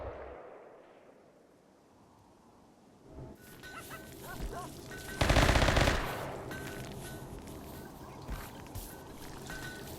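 Video game gunfire at a RimWorld gun range, faint rapid bursts of shots rising out of quiet, with a louder dense burst in the middle and scattered pops after, over a soft game background.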